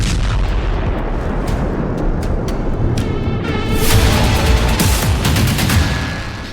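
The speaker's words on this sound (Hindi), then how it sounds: "यह धमाका उसी हादसे का बताया गया है।" Booming blasts and crackling bangs from the explosion of a crashed Falcon 50 private jet, a dense rumbling roar with rapid sharp cracks, building louder midway and fading slightly at the end.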